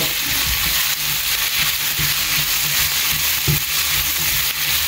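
Brinjal bharta base frying in hot oil in a pan, a steady dense sizzle running loud and close throughout, with occasional soft stirring knocks underneath and no voices.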